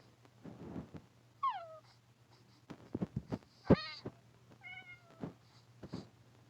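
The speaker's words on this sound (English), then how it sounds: "I want to see what it looks like when a cat dies in Minecraft." Minecraft cats give several sharp, rising meows, one long and loud, scattered among soft thuds and game noises in a quiet background, with no talking.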